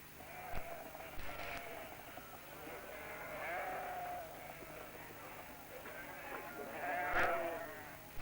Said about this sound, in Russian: Гоните, гоните овец сюда.